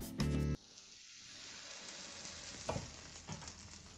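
Buttered bread hits a hot griddle with a sharp burst, then settles into a soft, steady sizzle, with a couple of brief scrape or stir noises along the way.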